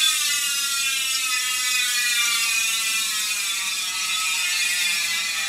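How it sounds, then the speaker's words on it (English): Industry 9 Hydra bicycle hub with 690 points of engagement, its freewheel ratchet spinning as a very fast, smooth buzzing whir of clicks, loud and steady throughout with no voices. "I went with the Industry 9 Hydra hubs with 690 ridiculous points of engagement"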